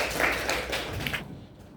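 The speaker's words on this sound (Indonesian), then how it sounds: "Beri tepuk tangan untuk kelompok 2." Classroom applause for a student group after its presentation: a burst of scattered clapping from a class that holds steady for about a second, then stops abruptly.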